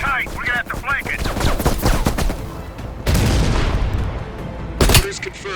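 Sustained machine-gun fire in the Call of Duty Cold War video game, loud and close, with rapid bursts running over several seconds and a sharp blast near the end, mixed with game voices.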